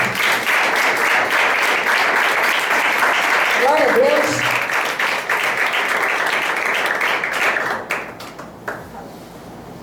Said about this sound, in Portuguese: Aplauda Jesus, amado.